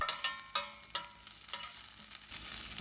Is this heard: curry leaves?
yes